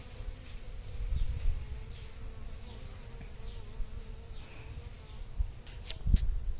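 A steady drone of honey bees buzzing close by around a hive, many insects humming together continuously, with a few louder passes near the end.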